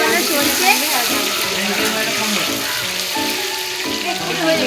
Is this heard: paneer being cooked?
yes